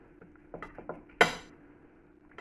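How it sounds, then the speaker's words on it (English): A cooked steak being cut in a pan, a few light utensil taps and scrapes, then one sharp clink of knife or fork against the pan, close and alone. "Let's cut into it a little bit"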